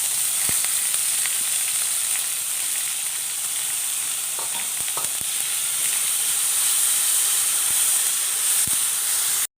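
Mustard seeds, curry leaves, dried chillies and chopped onion fry in hot oil in a pan for a colocasia leaf thoran, giving a steady loud sizzle and hiss with occasional small pops and stirring clicks.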